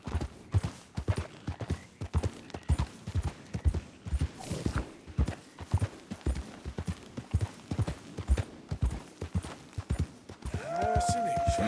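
Horse hooves clip-clop in steady rhythmic beats in Red Dead Redemption 2, close and clear, with a rider's voice speaking over the galloping.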